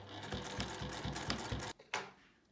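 A sewing machine backstitches binding onto a patchwork coaster, a close, rapid mechanical stitching rhythm that runs steadily, then halts briefly before a final short burst.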